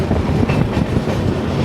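A train rumbles steadily across the Farakka Barrage at night, a loud continuous roar of wheels and carriages with faint rhythmic clatter and no voices.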